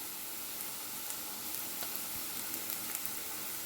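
Chicken with coriander powder, garam masala, pepper and turmeric sautéing in a pan, a faint, steady sizzle with scattered soft pops and crackles.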